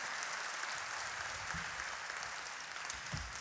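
Congregation in a church applauding at a 2023 teacher appointment worship service, a steady wash of clapping held at an even level throughout, with a few low thumps beneath.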